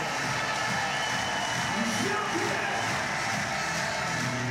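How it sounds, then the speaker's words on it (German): Spectators at an Invictus Games match in Düsseldorf keep up a dense, steady roar of cheering and shouting, a continuous wash of crowd noise with no single voice standing out. "Das hielt das Publikum nicht vom Feiern."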